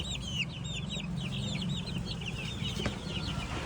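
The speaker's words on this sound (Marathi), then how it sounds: "कोंबडी तरी घे. पिला तरी घे कोंबडीची." A hen with her chicks clucks steadily at close range, soft repeated clucks mixed with high thin peeping from the chicks, set against a continuous low background hum.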